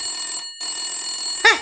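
A telephone ringing after dialling the police station, with a steady electronic tone broken by a short gap and then resuming, ending in a brief bright chirp. It sounds close and stands alone, with no talking.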